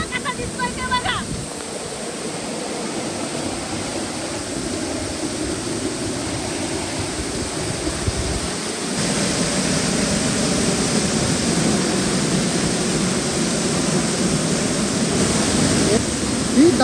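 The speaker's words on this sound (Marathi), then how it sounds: "धबधब्याच्या मागून धबधबा कसा दिसतोय ते बघा" A waterfall in the Maval forest, heard from inside the cave behind it: a steady, close, broadband roar of falling water that continues unbroken and swells slightly louder partway through.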